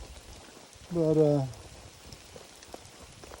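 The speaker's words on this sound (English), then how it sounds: "Still raining" Steady light rain falling on a wooded hiking trail, a soft, even patter heard close, with a brief spoken word over it.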